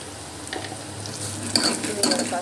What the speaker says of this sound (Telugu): పసుపు వేసుకొని బాగా మనం కలుపుకోవాలి.